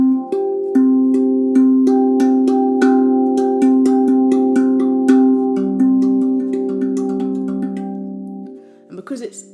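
A RAV handpan plays a G pentatonic scale as a steady sequence of struck metallic notes, each ringing with long, overlapping sustain, close and clear, before a brief handling noise at the end.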